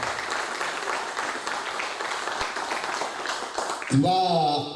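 Seated audience at a labor-reform debate applauding to welcome a speaker, steady moderate clapping across the room before a voice comes in over the end.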